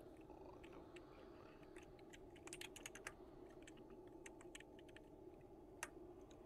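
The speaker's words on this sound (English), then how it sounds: "I'm sorry, I was typing." Quiet typing on a computer keyboard, scattered soft key clicks with a brief busier burst, faint and close against a low steady hum.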